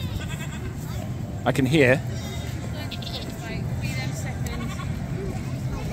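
Goats or sheep bleat outdoors in what may be an Alpine setting, a clear wavering call rising above a constant rumble of background noise and voices, with people talking throughout.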